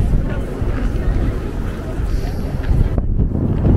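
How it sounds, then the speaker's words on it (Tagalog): Strong wind on a snowy day in South Korea roars steadily across the microphone, a loud continuous rumble with gusting buffets throughout. "Grabe yung hangin."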